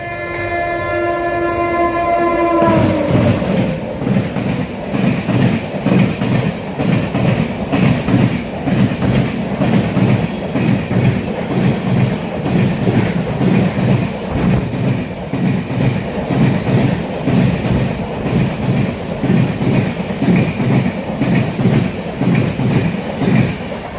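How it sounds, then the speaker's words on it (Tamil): The Tambaram–Santragachi Antyodaya Express approaches with a short horn blast, then passes close and loud with a rhythmic clickety-clack of wheels over rail joints that continues steadily. "இப்போ போனது தாம்பரம் சாந்திரகாசி அந்தோதயா எக்ஸ்பிரஸ்"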